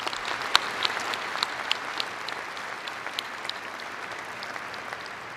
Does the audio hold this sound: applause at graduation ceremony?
yes